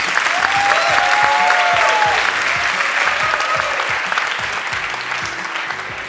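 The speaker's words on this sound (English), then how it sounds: "A round of applause for the digital media technology graduates." Sustained crowd applause for graduates at a graduation ceremony, a loud, even wash of many hands clapping with a faint whistle-like tone early on, slowly tapering off.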